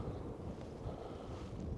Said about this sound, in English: in fact, quite windy up here